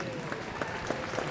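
Audience applause at an evening show jumping event honoring rider McLain Ward and his horse Katoki, a steady wash of clapping from a crowd, moderately distant.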